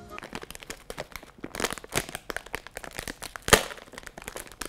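A noodle packet is crinkled to mimic the crackle of a campfire, producing dense, irregular close-up crackles and sharp snaps with no talking.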